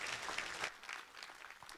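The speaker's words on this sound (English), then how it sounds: "Yeah, you can applaud again for sure." An audience at a horse racing champion awards show applauds for an honoree, a dense, sustained patter of many hands clapping at moderate distance.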